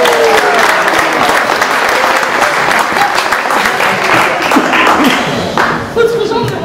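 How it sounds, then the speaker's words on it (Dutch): Audience at a primary school musical breaks into loud, sustained applause, dense clapping from many hands with cheering voices and chatter mixed in, tapering slightly near the end. "Applaus!"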